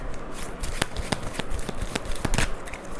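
Tarot and oracle cards are shuffled by hand in close, continuous riffling with sharp snaps of cards slapping together at irregular intervals.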